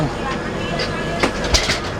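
Train noise rumbles steadily with a few sharp clanks and knocks, like carriages jolting as a train begins moving.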